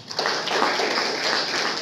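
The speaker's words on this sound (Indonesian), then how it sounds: "Tepuk tangan untuk ini." A church congregation breaks into applause during a sermon, a dense, even wash of many hands clapping that starts abruptly and holds steady at moderate loudness.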